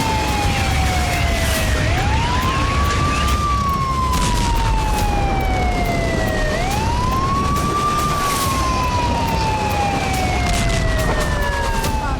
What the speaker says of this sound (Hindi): कहीं रिहायशी इलाकों में सायरन बज रहे हैं।